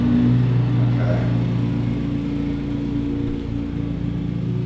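A noisy lawn mower runs outside as a steady mid-pitched engine drone with a low hum, holding a constant level throughout.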